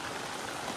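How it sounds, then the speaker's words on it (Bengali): Steady, dense rain falls near a river in the Sundarbans, a broadband hiss with no talking. "স্বাগত জানাতে না জানাতেই কিন্তু বৃষ্টি চলে এসছে"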